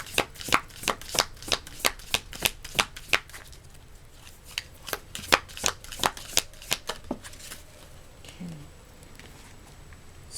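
Tarot cards are shuffled close by in a quick run of crisp riffling bursts, pausing briefly midway before another rapid series of snaps and flutters, with no talking over them.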